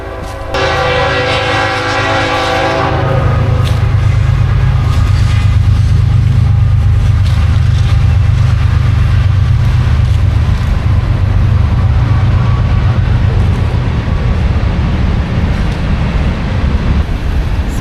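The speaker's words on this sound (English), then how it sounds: "The train is coming." A train horn sounds at a campground, loud and sustained, then a long, heavy rumble of railcars rolls steadily past close by.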